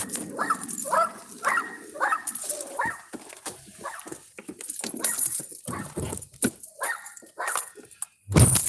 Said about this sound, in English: A little dog from across the street.